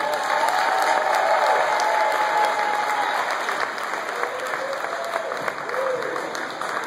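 Sustained audience applause at a memorial event, a dense steady clatter of many clapping hands from a crowd, holding loud throughout with a few voices faintly mixed in.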